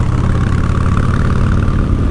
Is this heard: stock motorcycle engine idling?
yes